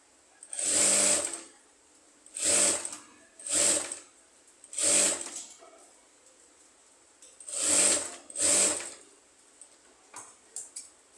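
A sewing machine stitches a garment neckline in short bursts, six close whirring runs separated by brief pauses, with faint handling sounds at the end.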